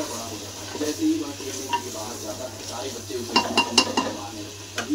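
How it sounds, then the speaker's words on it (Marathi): Onions fry in a pan for egg biryani, with a soft background sizzle under repeated scraping and clinking strokes of a spoon against the pan, which grow busier toward the end. "आता आपण कांदा चांगला तळून घेऊ लाल होईपर्यंत."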